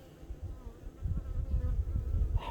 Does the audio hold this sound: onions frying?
no